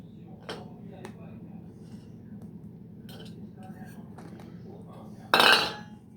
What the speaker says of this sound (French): maintenant on mélange bien le tout